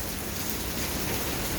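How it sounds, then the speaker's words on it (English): Steady rain falling outdoors, a dense, even hiss of drops on surfaces filling the whole short stretch at a fairly loud level, with no voices. "Because of the rain, it's very difficult."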